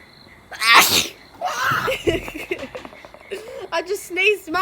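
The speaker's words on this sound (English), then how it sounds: "I just sneezed" A loud sneeze bursts out near the start, followed by laughter and excited chatter from several people close by.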